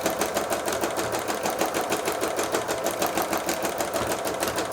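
A sewing machine hums steadily at a fast, even pulse, running straight stitches back and forth to form a grid on a thread-and-sea-glass dragonfly piece, loud and alone.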